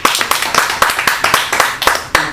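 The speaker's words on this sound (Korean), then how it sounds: "환영의 박수를 드리겠습니다" A church congregation at a Sunday service gives welcoming claps in a sharp, regular rhythm, about a dozen loud, close synchronized beats.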